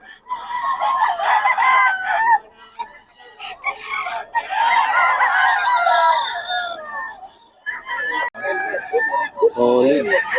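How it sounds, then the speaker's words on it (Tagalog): Several roosters crow loudly and repeatedly, overlapping one another, with clucking hens mixed in between the drawn-out calls, close and busy throughout. "Ang gaganda ng manok ni Boss Batang."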